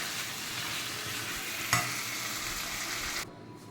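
Spicy chicken fry with pepper powder and coriander being stirred and roasted in a pan, a steady close sizzle with one sharp scrape of the spoon, then the sizzle drops quieter near the end.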